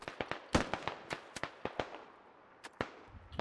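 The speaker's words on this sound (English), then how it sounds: "Probably an MG3." Gunfire from an MG3 machine gun in the video game Squad: a series of sharp, cracking shots at irregular intervals, some in quick pairs, fairly distant and moderately loud against a quiet background with no speech.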